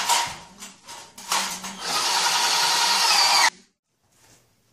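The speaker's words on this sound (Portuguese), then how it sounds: "tendo juntado as guias, agora eu vou parafusar para uni-las" A power drill drives screws to join metal drywall tracks for a wall frame, starting with short whirring bursts and then running steadily at high speed before stopping abruptly.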